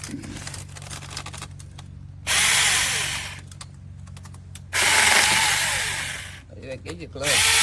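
A battery-powered 6-inch mini chainsaw cuts wood in three loud bursts of rasping, whining sawing, with quieter idling and rattling gaps between cuts and a voice speaking briefly.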